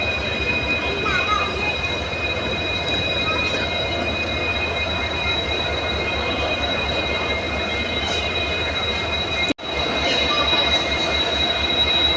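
A train rumbles steadily along the rails with a constant roar and high metallic squeal, heard from inside, with a brief dropout near the end.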